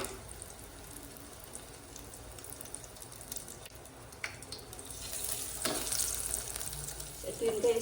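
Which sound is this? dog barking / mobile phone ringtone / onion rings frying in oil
onion rings frying in oil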